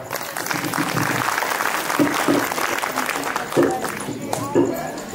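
Audience applause at a public lecture on Chhatrapati Shivaji Maharaj, mothers in the crowd clapping steadily and loudly while voices and shouts of people in the hall rise over the clapping.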